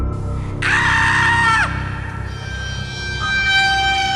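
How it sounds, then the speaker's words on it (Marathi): A woman screams loudly and sharply in a Marathi horror story, one sustained high cry of about a second that cuts off abruptly, with quiet background noise continuing afterward. "पण त्या क्षणी प्रियंका जोरात ओरडली"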